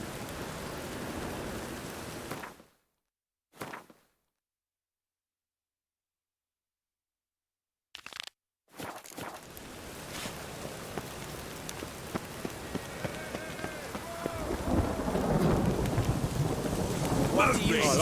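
Rain and rolling thunder from the video game The Witcher 3, a steady downpour that cuts out twice into silence, then returns and swells louder toward the end with deep rumbles.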